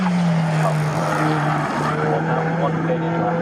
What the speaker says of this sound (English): that Ferrari challenge car headed out and